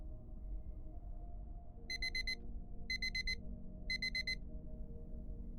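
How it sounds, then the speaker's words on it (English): An alarm clock rings in three short bursts of rapid high beeping over a low, steady background hum, faint and evenly spaced. "By the time his alarm rang"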